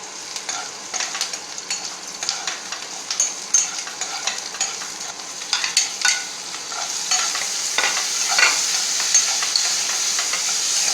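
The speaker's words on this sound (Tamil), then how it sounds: "கருகாமல் வறுத்து வச்சுக்கணும்." Egg curry ingredients frying in a pan without burning, a constant close hiss of sizzling oil broken by frequent sharp clicks and scrapes of a spoon stirring, no voices.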